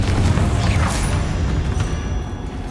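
Confringo explosive spell blasts in Hogwarts Legacy, a dense, loud booming burst with crackling debris that rumbles continuously under battle noise without letup.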